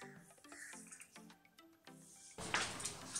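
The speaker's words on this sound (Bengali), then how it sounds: "জলটা খুব ভালোভাবে ঝরিয়ে নিতে হবে" Water draining off boiled ghugni peas, with soft drips and trickles at first, then a louder, steady rush of pouring liquid over the final second.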